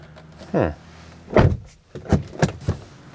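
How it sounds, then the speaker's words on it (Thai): The door of an Aiways U5 electric SUV is shut, giving several dull thumps close by, with a voice speaking between them. "ถ้าฟังเสียงปิดประตูนะ"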